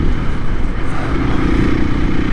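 A 2024 KTM EXC-F 500 Six Days dual-sport motorcycle lugs along in sixth gear, its engine a low, loud, throbbing drone with wind noise, continuous and close over the whole stretch.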